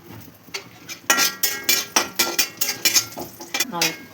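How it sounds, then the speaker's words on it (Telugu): Dry coconut being fried and stirred in a pan, a quick run of sharp metallic scrapes and clinks of a utensil against the pan in an uneven rhythm, close and fairly loud, with a voice talking alongside. "ఎండు కొబ్బరి అండి కొంచెం ఫ్రై చేస్తున్నాము"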